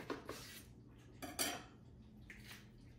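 A knife cuts a lemon in half on a kitchen surface, giving a few faint, sharp taps and knocks spaced apart against a quiet background.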